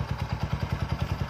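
A 2008 Yamaha Scorpio Z motorcycle engine in fresh condition idles close by, with even, rapid low thumps of the exhaust pulsing about nine times a second.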